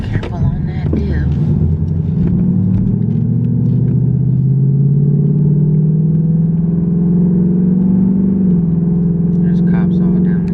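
A car drives along a road, its engine rumbling loudly and steadily from inside the cabin the whole time, with a slight shift in pitch near the end.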